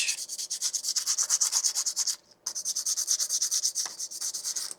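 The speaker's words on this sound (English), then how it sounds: "a quick little sand" A 3D printed part is sanded by hand with 220 grit sandpaper: quick rhythmic back-and-forth rubbing strokes, close and fairly loud, with a short pause midway before the strokes resume.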